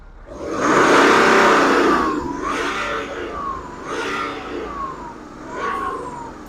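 A Stage 1 tuned 250+ bhp diesel BMW engine revs up several times in quick swelling bursts, loud and close, each rise falling away before the next, with no talking.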